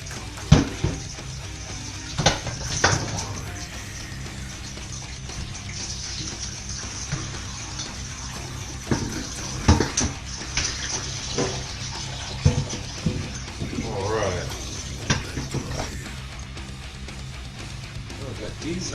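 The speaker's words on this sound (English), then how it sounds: "So let me drain these meatballs real fast" Cooked meatballs being drained, with grease and liquid splashing and trickling in short bursts and light clatters of utensils, under intermittent talking in a kitchen.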